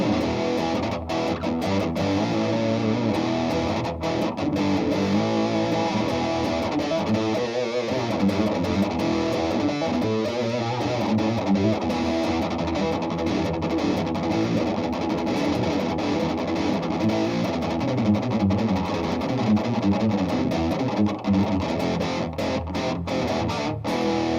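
Electric guitar played through a Super Badass Turbo Distortion pedal at a NAMM preview, dense, heavily saturated high-gain tone ringing continuously and loudly for the whole stretch, with chugging palm-muted passages and no talking.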